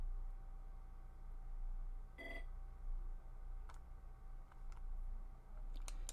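An in-game phone call rings in Pokemon Brilliant Diamond: one short electronic ringing burst, followed by a few faint clicking ticks over a low steady background hum.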